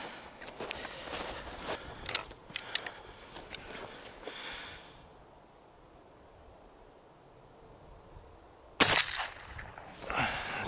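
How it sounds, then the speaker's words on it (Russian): A sharp, loud blast from a 1959 IZh-K 32-gauge shotgun firing shot cracks out near the end, after a stretch of rustling and handling noise and a quiet pause. "Выстрел хлесткий, резкий."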